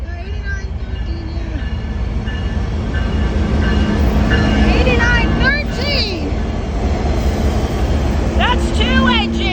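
A CN freight train power move with twelve locomotive engines rumbles past close by, loud and continuous, with squealing wheel and rail tones and horn-like whines over the engine drone; people talk over it.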